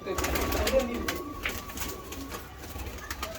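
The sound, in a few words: pigeons cooing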